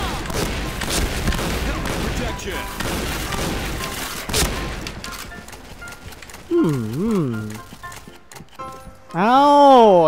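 Gunshots in a video game crack out as several sharp, loud bangs in the first half, mixed with hoof-like thuds, before the shooting stops and voices take over.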